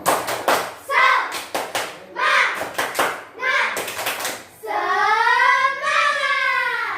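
A fourth-grade primary class in a lesson claps out a rhythmic spirit clap in quick bursts of sharp claps, with voices calling along, then the group breaks into a sustained sung chant.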